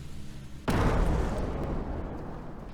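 Grenades going off in a video game: one sudden loud blast with a heavy low rumble that rolls on and slowly fades, no voices over it.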